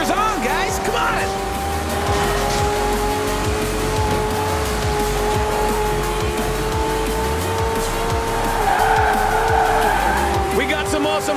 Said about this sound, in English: We got some awesome racing trucks out there